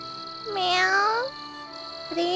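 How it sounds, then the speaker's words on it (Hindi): A cartoon cat gives two meows, the first long and drawn out with a rising then falling pitch, the second short and cut off, both loud and close over a quiet background. "म्याऊं।"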